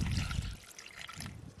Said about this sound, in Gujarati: થોડું પાણી નાખી દઈ.